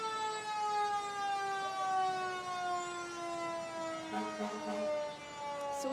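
Fire engine siren at a July 4th parade, a loud sustained wail whose pitch slowly slides downward, with brief crowd or street noise near the end.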